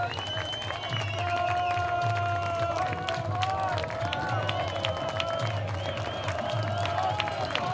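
A crowd of a couple thousand baseball fans at a Missoula Paddleheads versus Oakland Ballers game rises with sustained cheering, whistles and clapping, steady and fairly distant under an announcer's talk.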